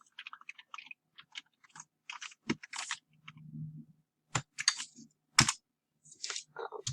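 Scattered clicks and taps from a computer keyboard as someone types a Minecraft command, irregular and close, with brief pauses between bursts.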